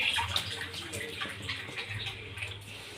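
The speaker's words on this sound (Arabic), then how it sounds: "انا بحط كوبايتين ميه الاول عليهم" Water poured from two cups into a cooking mixture in a home kitchen, a soft continuous splashing pour lasting a few seconds, fairly faint and close, without talk.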